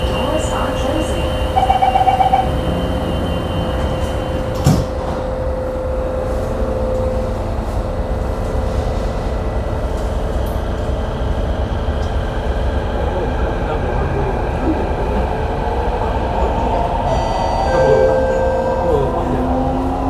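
Steady rumble of a Singapore MRT metro train in motion, with a continuous hum and rattling wheels, and a faint tone near the end.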